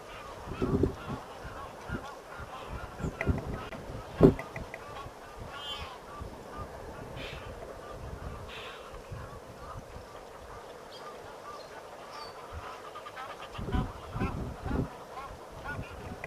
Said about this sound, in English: a pair of Egyptian geese just coming into the picture now from the left